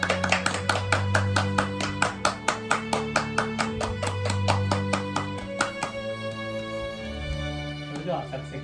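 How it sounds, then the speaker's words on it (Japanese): Applause welcomes graduates entering a graduation ceremony: steady, rhythmic clapping keeps a regular beat over background music with sustained tones, clear and fairly close, fading as the music shifts near the end. "卒業生入場、 拍手でお迎えください。"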